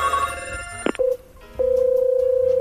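A telephone rings on the line while a prank call is placed. Ringing tones come first, then a short click, then a steady pulsing ring tone. It is fairly loud and plays with no talking.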